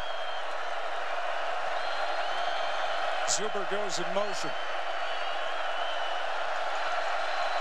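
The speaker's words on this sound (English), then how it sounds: "Crowd in full throat." A stadium crowd roars steadily at a 2018 college football game between #12 West Virginia and Kansas State, a broad continuous wash of noise under a commentator's play-by-play, with a brief burst of whistling partway through.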